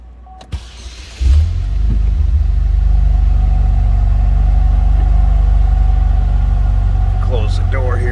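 A 2007 Saturn Sky Redline convertible engine cranks and catches after a short pause, then settles into a steady, loud, low idle rumble that continues to the end, with faint talk over it.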